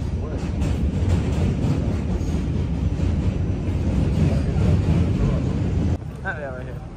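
Inside a moving city train, a loud continuous rumble with rhythmic rail clatter and wind noise runs for several seconds, then drops abruptly as a voice briefly speaks.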